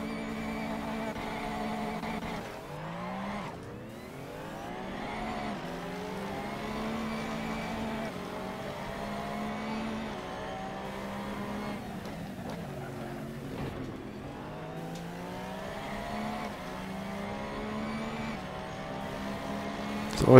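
A pack of race cars in the Assetto Corsa game at Red Bull Ring roars off the start, engines rising and falling through repeated upshifts, layered overlapping revs continuing steadily throughout.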